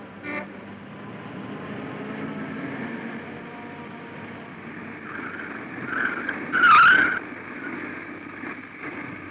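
An old car in a classic Marathi film brakes to a stop on bad petrol: a steady engine rumble with a short, sharp tyre squeal near the end before it settles.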